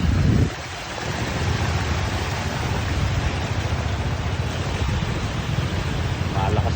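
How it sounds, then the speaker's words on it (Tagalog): Strong river current, rushing water roaring as a broad, continuous wash with wind buffeting the microphone, steady and close; voices talk faintly underneath. "Lakas na agos"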